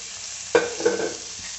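Pumpkin pieces stirred in hot oil in a pan, a single scraping stir over a soft steady sizzle, close and quiet, with no talking.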